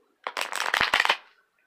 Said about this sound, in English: So I'm just going to do one more shuffle.